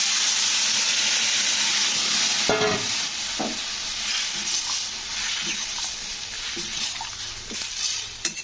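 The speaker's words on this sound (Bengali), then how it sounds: "তারপরে আমি এর মধ্যে দিয়ে দিচ্ছি সেদ্ধ করা সবজি" Boiled vegetables go into hot oil with ginger and chilli powder for neem shukto, setting off a loud sizzle that then settles into steady frying hiss with intermittent spatula scrapes and taps.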